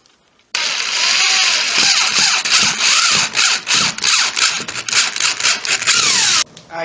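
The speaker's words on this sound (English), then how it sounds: "Inch and a quarter pocket hole screws are used to join the boards together." Inch-and-a-quarter pocket hole screws being driven to join wooden table boards, a loud power driver whirring in repeated bursts that rise and cut off as each screw seats.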